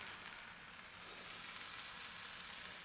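Thin crêpe batter cooks in a swirled pan with a faint, even sizzle that holds steady throughout, soft and unbroken with no talking.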